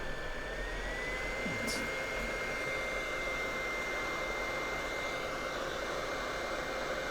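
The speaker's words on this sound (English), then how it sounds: "Oh, I've got my gun set to 380. Just going to heat from underneath." A hot air rework gun set to 380 blows on a Nintendo Switch circuit board from underneath to melt solder, a steady close hiss of airflow that holds constant throughout, with no talking over it.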